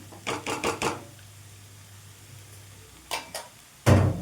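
Moong dal being stirred and mixed in a frying pan for an amaranth leaf stir-fry, with short bursts of spatula scraping, a group of quick strokes early, then a pause and two more scrapes near the end, over a faint sizzle.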